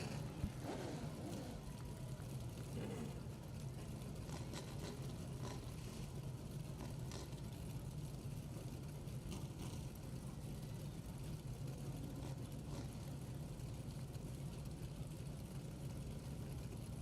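NASCAR Whelen Modified Tour race cars at the start of a 200-lap race, a steady low engine drone filling the whole stretch, no talk.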